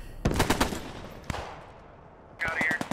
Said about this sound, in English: The Bren gun's not exactly subtle.